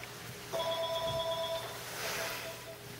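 A performer on stage imitates a telephone ringing with his voice, giving a single steady electronic-style ring of about one second, fairly close and clear.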